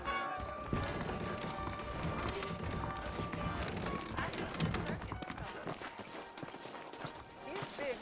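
Saddled horses in the western video game Red Dead Redemption clip-clop in a steady trotting rhythm, hooves fairly close and continuous beneath game music and other ambient sound, with speech-like voices mixed in.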